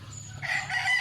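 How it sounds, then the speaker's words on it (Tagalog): A single loud call from an Indian blue peacock, a shrill rising cry that swells midway and holds, close and alone over faint background. "Indian Blue Peacock."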